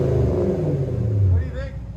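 Porsche Cayenne S with a 4.8-liter V8 and aftermarket exhaust, revving loudly up and down close by, a deep steady drone rising then easing off, with voices talking over it.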